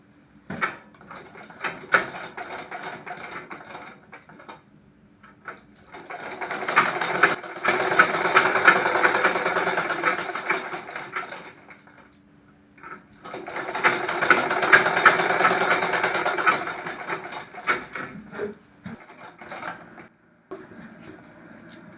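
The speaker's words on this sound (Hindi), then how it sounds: "इसको भी इस तरीके से रख के यहाँ पे सिलाई चला देंगे। तो चलिए सिलाई करते हैं।" A sewing machine stitches the crotch seam of a heavy palazzo in two long runs, its steady whir swelling and fading with a quiet pause between bursts and no talking.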